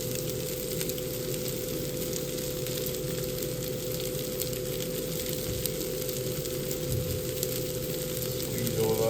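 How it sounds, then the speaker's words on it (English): Yakisoba stir fry sizzling steadily in a hot pan with soy, ginger and garlic, a constant bright frying hiss with faint clatter from stirring near the end. "yakisoba stir fry."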